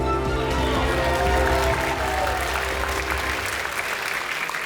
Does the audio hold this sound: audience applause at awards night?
yes